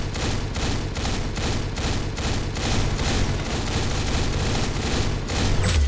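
Rapid, sustained gunfire from a shooting video game, with dense overlapping shots in steady bursts, loud and continuous with no talk.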